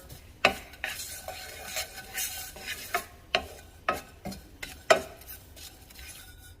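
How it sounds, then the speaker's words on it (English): A utensil scrapes and clacks against a pan in quick, irregular strokes, with a soft sizzle underneath as sesame seeds are stirred over low heat. "now for those sesame seeds, and these will go quick. So just low heat and constantly stir."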